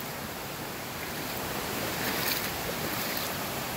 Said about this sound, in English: Careful, pup, it's a waterfall.